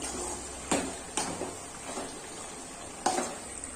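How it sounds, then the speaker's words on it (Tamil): Gooseberry pickle cooking in oil is stirred with a utensil, giving a soft steady sizzle broken by several sharp scraping strokes against the pan, close and alone with no talk. "இப்போ நம்ம மறுபடியும் நல்லா கிளறி விட்டுக்கலாம்."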